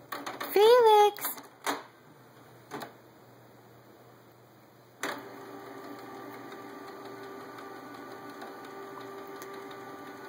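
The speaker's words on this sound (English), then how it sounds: "Somebody's turned the printer on." A printer switches on with an abrupt clunk, then runs as a steady mechanical whir and hum, after earlier high-pitched cries and thumps in a home.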